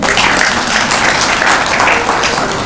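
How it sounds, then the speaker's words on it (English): Dense, steady applause from an audience at an iftar gathering hosted during Ramadan by a women leaders' caucus, filling the room continuously with a faint voice underneath. "clap for yourselves"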